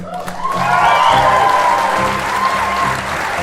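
An audience at the Wagner Theatre claps and cheers after a live music performance in a steady, sustained wash of applause, fairly loud, with some crowd noise mixed in.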